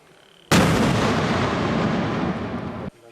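A 51mm mortar fires at a CRPF training ground, one sudden loud blast followed by a sustained roaring rumble that cuts off sharply after about two seconds, with no voices.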